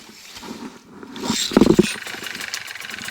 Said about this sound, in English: we're going to go for a clear prop, and start the engine